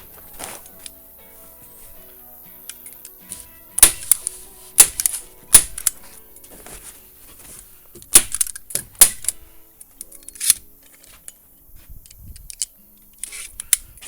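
Building paper cavity wrap being temporarily tacked in place on a new house build, with sharp, irregular staple-gun or hammer-tack clicks scattered across the clip, some loud and close, others faint.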